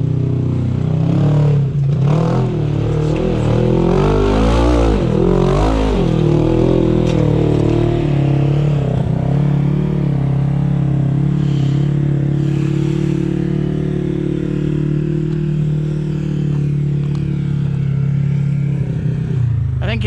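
Off-road vehicle engine revving hard while climbing Axle Hill, a loud, sustained roar that rises and falls with the throttle, with voices talking over it.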